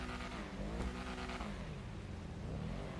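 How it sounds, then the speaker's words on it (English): Car engine revving in the video game The First Descendant, a continuous mid-level engine note rising and falling with a brief higher rev burst, heard on its own. "this car sounds really nice"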